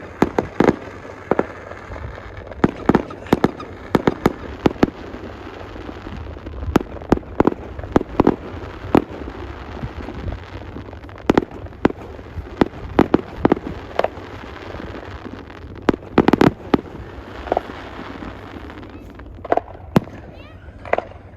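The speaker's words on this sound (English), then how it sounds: "Christmas fireworks." Christmas fireworks burst outdoors in High Level, Alberta, on a minus-20 winter night, a long irregular series of sharp cracks and pops, some loud and near, others fainter, over a steady background hiss.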